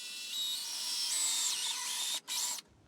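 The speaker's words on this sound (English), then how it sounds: "I'm just going to try to drill in there with this 1/8 inch drill bit" A power drill with a 1/8 inch bit bores into the plastic nozzle of a caulking tube, giving a high, whining motor note that shifts pitch as it bites, briefly stops, then resumes before cutting off.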